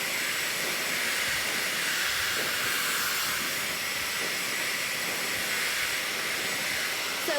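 A Shark FlexStyle hair dryer blows a steady, loud airy hiss close by, unbroken for the whole stretch, with no voices.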